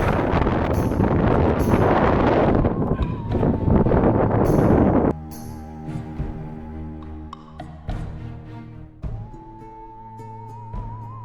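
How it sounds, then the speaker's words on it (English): Strong wind buffets the microphone in heavy gusts for several seconds atop a castle tower at Burg Gräfenstein, Germany, then drops away, leaving quieter rustling and a steady hum. "Wow, that wind is really whipping."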